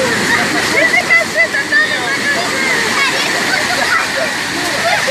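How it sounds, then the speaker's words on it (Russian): Atlantic tide waves wash ashore on the beach at Biarritz, France, a continuous broadband rush and slosh of surf that stays steady and fairly loud throughout, with voices talking over it. "Это приливчик."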